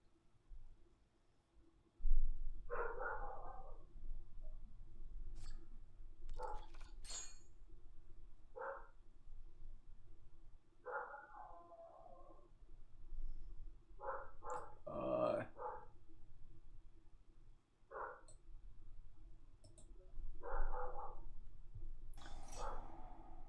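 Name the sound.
dog barking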